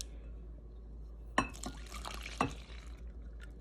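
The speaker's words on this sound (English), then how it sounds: "And then we're going to pour our fermented yeast in here." Fermented yeast is poured from a container into a bowl of flour, giving two soft wet glugs and splashes against a quiet, humming kitchen background.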